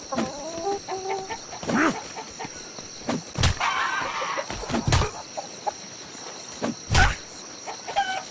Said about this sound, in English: A wild chicken.